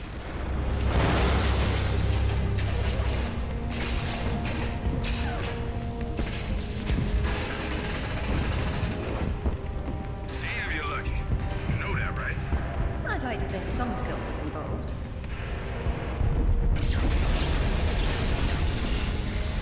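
A rumbling explosion roars through the Tomb Raider: Legend game as a facility blows, with sustained booming debris and crackling bursts that swell again near the end, loud and continuous.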